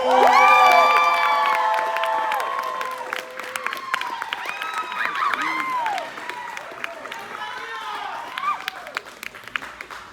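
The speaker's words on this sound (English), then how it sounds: "Everybody start clapping for your next comic." A comedy club audience at a stand-up show cheers, whoops and claps for the next comic, loud and close, with shouting voices peaking at the start and applause continuing more steadily afterward.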